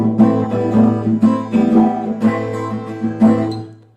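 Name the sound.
Spanish-style guitar strumming pattern with lifted fingers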